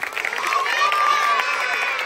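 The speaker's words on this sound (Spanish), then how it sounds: "vamos a brindarle un fuerte aplauso" Audience clapping and cheering at a Christmas community gathering in Torocoba, greeting an honoree. Steady, moderately loud applause with a bright whistle-like cheer rising through the middle and voices mixed in.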